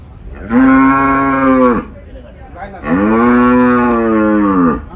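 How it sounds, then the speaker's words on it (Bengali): Two long, deep, loud bellows from a water buffalo at a livestock market, close by, separated by a short pause with faint background noise. "মহিষের ডাক"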